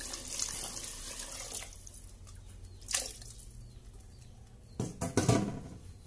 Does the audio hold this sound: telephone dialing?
no